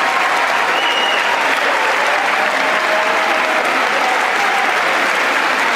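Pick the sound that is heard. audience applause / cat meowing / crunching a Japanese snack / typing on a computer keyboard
audience applause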